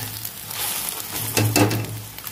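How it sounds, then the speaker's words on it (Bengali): Beaten egg frying in hot oil in a pan, a steady close sizzle with brief louder crackling bursts midway as it is turned, no voices. "ডিমটা উল্টে পাল্টে ভেজে নিচ্ছি"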